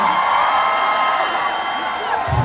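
A large concert crowd at a year-end show in Cheongju cheers and whoops continuously, a dense roar of voices at steady loudness with occasional higher shouts rising above it.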